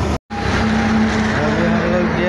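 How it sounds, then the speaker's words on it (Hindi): Truck engine running loud and steady through a gear change, a strong low hum with a short cut-out near the start as the gear goes in, on a long loaded haul toward Assam. "हम लोग गियर डला रहे हैं गाड़ी में।"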